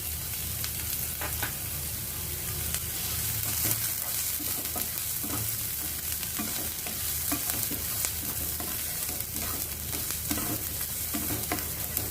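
Onions frying on high heat until golden brown hiss in a constant sizzle, while a utensil stirs them in repeated scraping strokes, close up and without speech.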